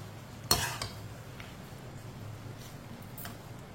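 A spoon stirs crushed jaggery into semolina halwa in a pan: one sharp scrape and clink, then softer faint scrapes against a quiet background.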